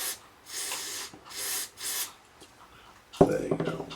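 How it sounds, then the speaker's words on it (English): Cleaner is sprayed into the mechanism of a Collaro record deck in three loud, hissing bursts of about half a second each, followed by handling noises and clatter near the end. "we'll spray a bit of cleaner in there"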